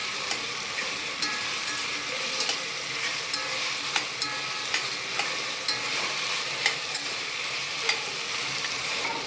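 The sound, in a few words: soybeans frying in oil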